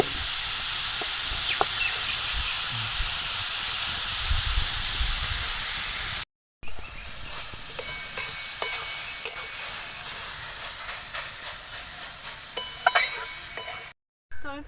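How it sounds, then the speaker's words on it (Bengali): Grated carrot is stirred in a hot pan for carrot laddu, giving a steady soft hiss and sizzle with light spatula scrapes and clinks, broken by two brief silences. "খানিকক্ষণের জন্য একটু নাড়াচাড়া করে নেব।"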